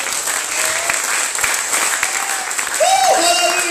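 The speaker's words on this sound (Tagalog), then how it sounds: "Palakpak para sa Diyos." Congregation applauding at an evangelical church service, steady crowd clapping with rising whoops and a voice breaking in near the end, fairly loud and close.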